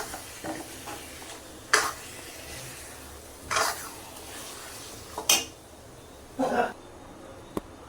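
A spoon scrapes and clanks against a metal pot of mutton in four separate bursts of stirring, with a faint sizzle between strokes.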